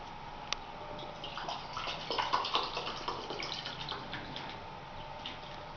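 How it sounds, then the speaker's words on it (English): Water is poured into cups, a faint trickling and splashing with small drips that rises in the middle and then tapers off, with no talking. "I'm going to pour the water in each cup."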